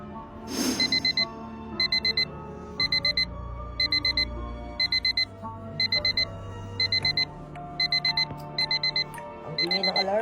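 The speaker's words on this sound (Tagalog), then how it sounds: "Ang ingay ng alarm." An alarm clock rings in rapid bursts of high beeps, repeating at a steady rhythm about once per second over quiet background music.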